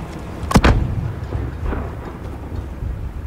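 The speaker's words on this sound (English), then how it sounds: "Alex, there's another Alcatala mortar team. Take them out!" In the Call of Duty Modern Warfare game, a single loud, close mortar blast booms out, then a lower rumble rolls on and fades.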